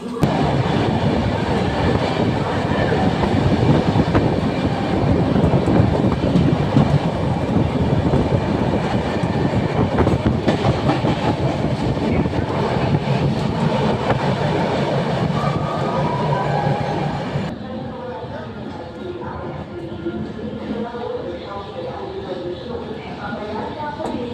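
Inside the Ananya Express between Kolkata and Prayagraj, a loud, steady rumble of wheels and carriage clatter fills most of the stretch, then drops abruptly to a quieter hum as the train eases; voices talk faintly in the background.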